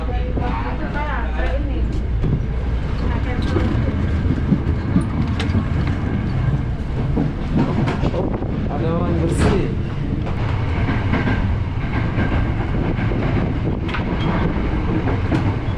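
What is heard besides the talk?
KRL commuter train running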